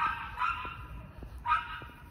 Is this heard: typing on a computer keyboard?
no